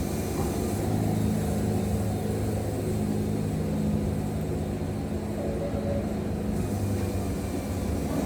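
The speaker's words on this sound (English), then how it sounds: "You can hear it get the motor bog a little bit, listen." A Woodmizer LT70 sawmill cuts through hickory, its motor droning loud and steady and dipping slightly as it bogs under load, a continuous close mechanical roar with no talking.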